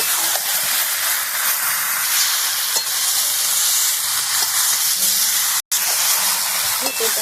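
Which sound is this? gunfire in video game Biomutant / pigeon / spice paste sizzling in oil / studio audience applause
spice paste sizzling in oil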